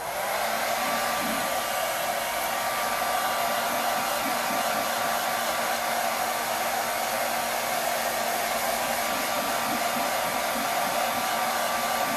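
A hair dryer blows steadily at close range, a loud continuous whooshing roar with a thin motor whine that holds unchanged throughout, with no talking.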